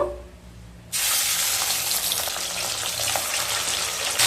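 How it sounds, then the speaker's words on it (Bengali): Pieces of katla fish drop into hot mustard oil in a pan, and a sudden loud sizzle bursts in and holds as a steady, close frying hiss to the end. "এবার মাছগুলোকে ভেজে নেব"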